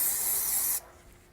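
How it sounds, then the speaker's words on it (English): Wax and grease remover sprays from an aerosol can onto a paper towel in a single steady hiss lasting under a second, then cuts off abruptly, leaving quiet room tone. "spray some on my paper towel"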